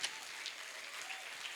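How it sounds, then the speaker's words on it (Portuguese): An audience at an Easter musical in church claps steadily in a brief, dense patter of applause, faint and without voices. "Que bom que Jesus recebeu o seu aplauso."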